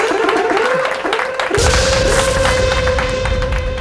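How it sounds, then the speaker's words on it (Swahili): A studio audience applauds comedian Kartelo on a TV talk show, loud sustained clapping and crowd noise that swells midway, with a steady tone running underneath. "Pigeni Kartelo makofi bwana"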